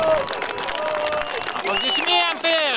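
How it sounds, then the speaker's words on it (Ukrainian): A crowd at an outdoor wartime spring rally in Slavutych, Ukraine, applauds in a dense, steady patter, with loud shouting and chanting voices ringing over the clapping throughout. "Аплодисменти!"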